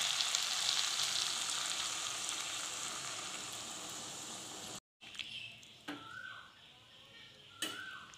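Taro stolons in a pan hiss loudly as water is added, a broad sizzle that slowly fades, followed by a short break and quieter clinks and scrapes of a utensil against the pan.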